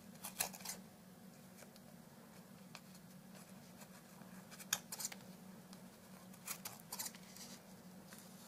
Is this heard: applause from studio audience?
no